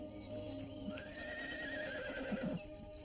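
A horse whinnies in a long rising and falling neigh, with a few hoof clops near the end, fairly faint against a steady background hiss.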